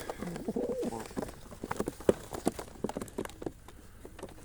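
Soft, low cooing from pigeons, repeated in short throaty bursts with scattered flutters and taps, fairly close and moderately quiet.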